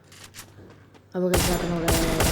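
Gunfire in a shooting video game, quiet game sounds first, then a loud sustained volley of shots kicks in about halfway and keeps going, close and dense.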